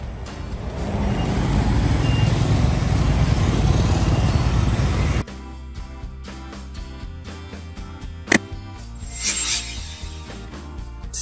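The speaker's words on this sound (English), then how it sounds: "Electric bus." Electric bus moving close by, a smooth, dense whooshing rumble lasting about five seconds, followed by quieter mixed traffic with a brief sharp tick.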